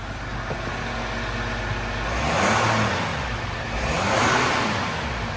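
Jeep Grand Cherokee engine idling just after a cold start, a steady loud rumble close by that swells twice as the revs rise and fall.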